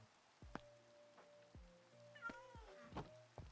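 A cat gives a faint, short meow amid soft tapping and clicking sounds in a quiet room.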